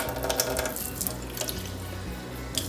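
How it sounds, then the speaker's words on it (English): Cold tap water pours steadily from a faucet into a measuring cup for a microwave mug recipe, a continuous close splashing flow with no voices. "I'm just gonna add 3/4 a cup of water and make sure it's cold"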